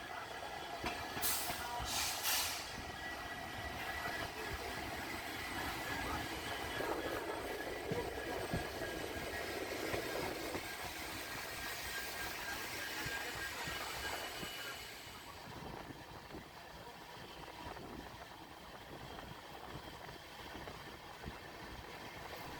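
Train 11097 Pune–Ernakulam rolls steadily along a single-line section near Kulem, a continuous loud rumble of wagons with faint clatter, easing slightly in the final stretch.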